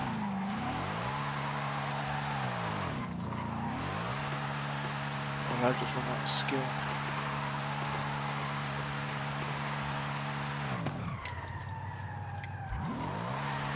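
A roughly 1800-horsepower car drifting in the video game Forza Horizon 5, its engine revving up and down in repeated sweeps with tyre noise, loud and continuous, while a player talks over it.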